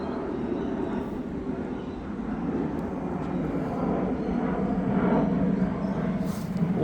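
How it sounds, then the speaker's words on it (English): An aeroplane passes overhead outdoors near a garden where wild birds are being fed, a steady broad engine roar that swells slightly toward the middle and end, fairly distant and continuous with no talk. "Aeroplanes."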